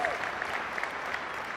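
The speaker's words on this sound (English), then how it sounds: "Give Tim and Mathieu another round of applause." An audience applauds for Tim and Mathieu at a corporate marketing event, a dense, steady burst of clapping at even loudness throughout.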